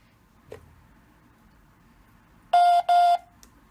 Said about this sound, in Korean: 만약에 이거 빨리 안 닫으면 얘가 막 삐삐삐삐 소리 나요.